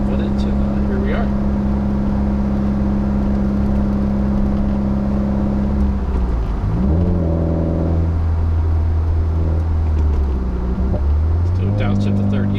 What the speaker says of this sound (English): I love doing pulls and hearing the roar of the engine